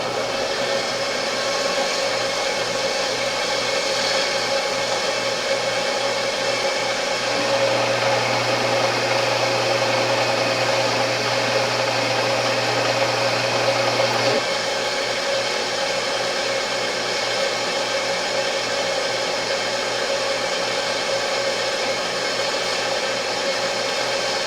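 A homemade CNC machine with a new Z-axis ballscrew runs a cutting program, giving a steady mechanical whir throughout with a louder, deeper hum that rises for several seconds mid-run and then drops away.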